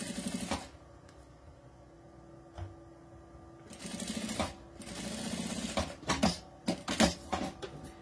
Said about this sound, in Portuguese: eu vou costurar esse viés aqui na partezinha reta do plástico